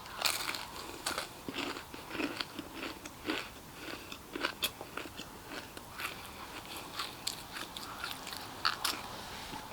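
Crisp, close bites and chewing of a pastry snack with a greasy texture, crackly crunches repeating in an uneven rhythm, quiet and clear with no talking.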